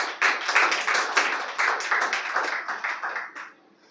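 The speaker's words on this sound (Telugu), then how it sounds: "మరొకసారి చప్పట్లు కొట్టండి." A crowd at a religious gathering claps together in a dense, steady burst of applause for several seconds, fading out near the end with no talk over it.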